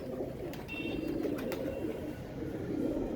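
Royal teddy pigeons cooing, soft low repeated coos in a continuous murmur, close, with faint chirps and light rustling in the background.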